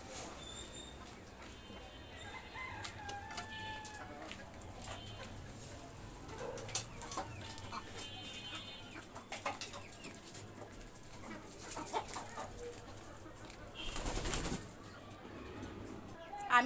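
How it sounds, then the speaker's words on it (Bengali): Roosters at a poultry farm, faint scattered clucks and calls from several birds gathered together, with distant cooing and quiet background noise and soft talk at times. "আমি একটা মুরগি ধরার কারণে এখন সবগুলি মোরগ একসাথে জড়ো হয়ে আছে"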